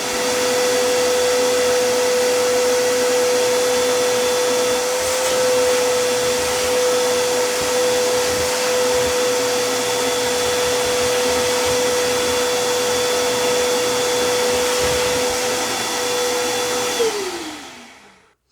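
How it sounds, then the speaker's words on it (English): A vacuum cleaner runs steadily and loud for about seventeen seconds at a foundation repair site, sucking up cement splatter, with a constant high whine that winds down as the motor switches off at the end. "I'm going to vacuum all this up"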